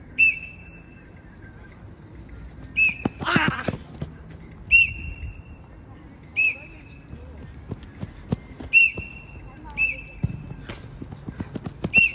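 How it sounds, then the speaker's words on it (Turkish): Short sharp blasts of a coach's whistle during athletic training, sounding roughly every one to two seconds, sometimes in quick pairs, over rhythmic thudding footsteps and bouncing on a hard floor, with speech between blasts. "İkinci düdükle koşuyorsun."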